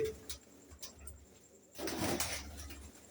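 Pigeons in a loft with nesting boxes coo softly in low, murmuring calls over steady background noise, swelling briefly louder toward the middle, with no talking.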